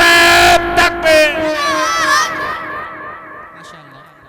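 A large crowd at a religious gathering shouts a slogan back in unison, a loud massed roar of voices that swells and then tapers off.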